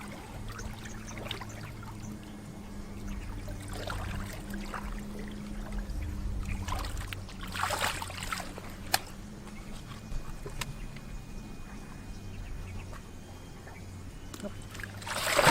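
An arowana fish splashes and thrashes in water on a Singapore breeding farm as it is swirled and handled, giving intermittent watery sloshes and splashes over a low background hum.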